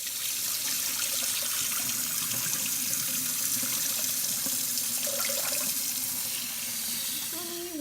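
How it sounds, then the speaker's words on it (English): Tap water runs steadily into a sink as Goya black beans are washed, a continuous close splashing with small trickles and shifts in flow throughout, no talking. "Wash and soak our beans for like about an hour."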